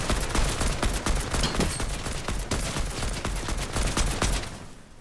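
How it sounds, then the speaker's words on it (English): Rapid bursts of gunfire crackle through a Fortnite match, dense repeated shots close by in an almost continuous fusillade, with no talk. "Oh, someone's shooting at me."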